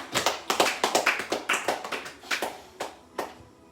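A church congregation claps in a loose, uneven rhythm, a dozen or so sharp close claps that thin out and slow toward the end, with no talking over them.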